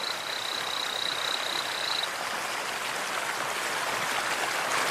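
A male torrent frog calls beside a roaring waterfall, a thin steady high peep running for about two seconds and fading into the constant rush of falling water that masks everything else.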